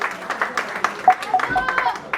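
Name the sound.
audience clapping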